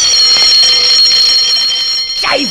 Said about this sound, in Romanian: Ai apăsat pe butonul de alarmă a pompierilor?